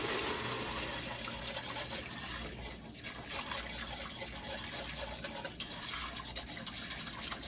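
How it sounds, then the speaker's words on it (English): A whisk stirs a sugar and water mixture for a first homemade beer, giving a steady, close swishing and sloshing of liquid that runs continuously without talk. "Stir our sugar water mixture here."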